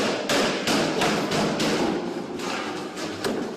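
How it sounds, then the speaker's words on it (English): Rapid, sharp gunshots in an irregular burst, loud and close, with a dense rattle of noise between them and no talking, during an attack on a shopping mall in Kenya. "Shoppers crouch in the aisle as gunfire can be heard nearby."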